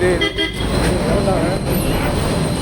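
Horn toots from a passing bus in busy city traffic in Coimbatore, heard over engine and road noise while a voice talks nearby.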